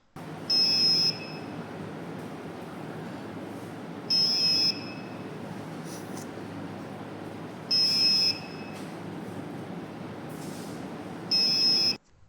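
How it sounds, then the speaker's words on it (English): A high electronic buzzer from an Arduino siren circuit sounds in four evenly spaced bursts, each about a second long, over a steady low background hum. "You have successfully created a siren by using buzzer and RGB LED."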